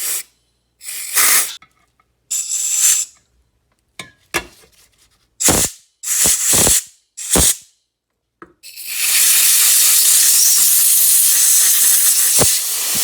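Compressed air blows out the small holes of a 1986 Yamaha YZ 80 carburetor: a series of short, loud hissing bursts separated by silences, ending in one long continuous blast.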